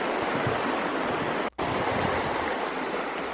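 The Gallatin River runs beneath a trail bridge on the Bighorn Trail in Yellowstone National Park, a steady broadband rush of flowing water that fills the whole clip with one brief dropout near the middle.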